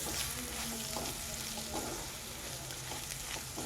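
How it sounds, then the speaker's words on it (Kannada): Bhindi aloo masala with kasuri methi frying in a pan, a steady sizzle with occasional scraping stirs of the spoon, close and continuous, no voices. "ಅಲ್ಲಿವರೆಗೂ ಚೆನ್ನಾಗಿ ಫ್ರೈ ಮಾಡ್ಕೊಳ್ಳಿ"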